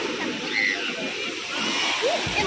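Seawater washing along a seashore where a dead turtle has come ashore and a dog is eating it, a steady, fairly loud wash and slosh that continues for the whole stretch without clear breaks, with no one talking over it.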